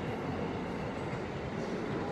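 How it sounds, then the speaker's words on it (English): An Acela line train passes near a river house, a steady broad rumble and rush of wheels on rails heard from a distance, constant and moderately faint with no voices. "There goes the train, the Acela line."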